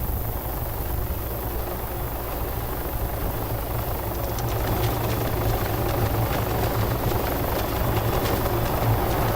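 Helicopter engine in the video game Arma 3, a continuous loud rotor drone and turbine whine with steady low thumping that grows slightly heavier partway through, with no talk.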